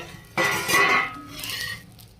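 The metal lid comes off a cooking pan holding daliya chilla pancakes. It makes a brief clattering scrape with a light metallic clink, close and moderately loud, and then fades.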